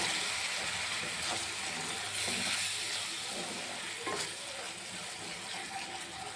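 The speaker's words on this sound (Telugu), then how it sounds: "ఇందులో వాటర్ యాడ్ చేసుకోవాలి. బాగా మిక్స్ చేసుకుందాం." Egg curry masala with palak being stirred in a pan after water is added, a steady wet sizzle with soft scraping, clear and close, no talk.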